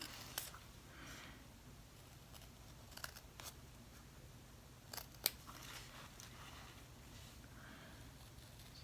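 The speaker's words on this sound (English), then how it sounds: "you're going to need some little scissors" Quiet, close snips of small scissors cutting paper, a few isolated crisp cuts spaced irregularly over soft background hiss.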